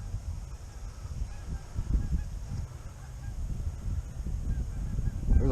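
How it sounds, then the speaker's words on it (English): A flock of geese honks overhead in flight, scattered calls overlapping at a moderate distance above a rumbling outdoor background. "There's a lot of geese moving."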